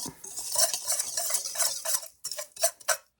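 A spoon stirs and breaks up clumpy beef bouillon in a bowl, giving repeated close scraping and clinking strokes in an uneven rhythm, with a short pause before a few final sharp scrapes.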